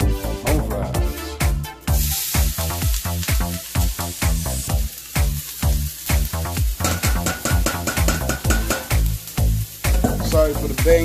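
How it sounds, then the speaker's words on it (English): Home fries frying on a steel grill in olive oil, a busy, loud sizzle with frequent sharp metallic scrapes and clanks of a spatula turning the potatoes, close up and continuous. "everything on the grill, everything smoking nicely."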